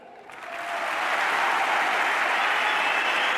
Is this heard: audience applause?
yes